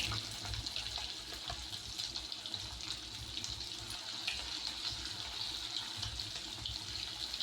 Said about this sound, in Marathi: आता आपल्याला 3-4 मिनिट हे लॉलीपॉप असेच मीडियम फ्लेमवर तळून घ्यायचे आहेत।